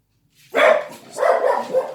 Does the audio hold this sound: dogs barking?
yes